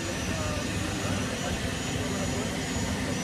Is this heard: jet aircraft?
yes